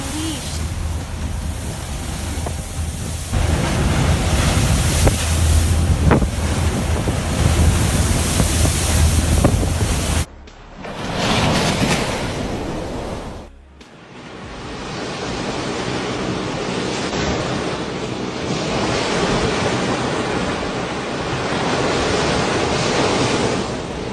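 Huge ocean waves pound a ship's deck in a storm with a loud, continuous roaring surge and wind rush, broken by abrupt cuts before the heavy wash resumes.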